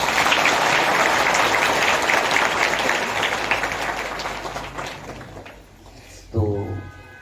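A temple congregation claps together at a gaushala gathering, a dense, steady wash of applause that gradually thins and fades toward the end before a brief voice cuts in.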